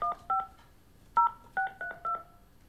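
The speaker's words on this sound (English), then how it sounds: "You have to dial 9 first." Touch-tone telephone keypad beeps, six short dual-tone presses in an uneven sequence, clear and close, with near silence between them during a school board meeting.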